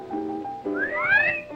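A single appreciative whistle, close and clear, a rising glide sweeping up and then falling away, after a brief low vocal murmur.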